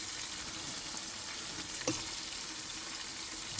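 Food sizzling and splattering in a pan on a stove inside a van, a soft continuous frying hiss with one brief sharp pop near the middle, close and fairly quiet.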